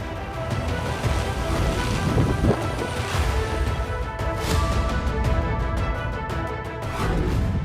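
Heavy monsoon downpour in Maharashtra, a steady dense roar of rain with rumbling thunder beneath, loud and continuous without pause.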